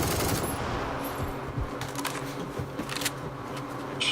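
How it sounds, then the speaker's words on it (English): Rapid gunfire rattles in a video game firefight, with scattered bursts of shots at moderate distance over a dull background rumble and no talk. "Getting shot at from the left."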